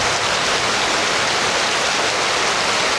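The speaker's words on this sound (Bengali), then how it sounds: "তো যে বৃষ্টি, তাতে মনে হয় আজকে বৃষ্টি থামবে বলে মনে হয় না" Heavy monsoon-style rain pours down continuously, a loud, even roar of water with no breaks or voices across the few seconds.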